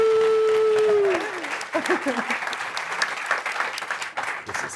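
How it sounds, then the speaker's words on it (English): An audience applauds at the close of a startup talk about mental health tech. After a held tone fades, steady, moderate clapping continues from a seated crowd in a room. "can we please all give a round of applause to Maria?"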